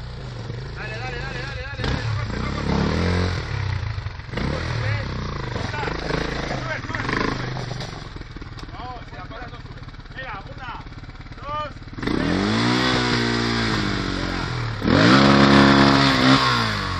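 A Husqvarna TE 610 dirt bike revs hard climbing a rocky trail, its loud engine rising and falling in bursts while people shout nearby.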